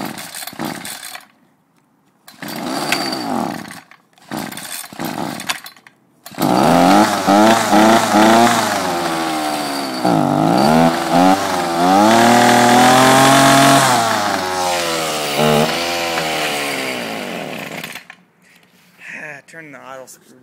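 A Ryobi weedeater gas engine pulled and sputtering before catching, then running loud and revving unevenly for about twelve seconds before dying; someone talks in the pauses around it.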